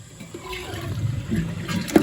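Water runs and swirls in a toilet tank and bowl after a flush, a steady close gurgle with a small splash near the end; the toilet may have a kinked flapper chain leaving the flap slightly open.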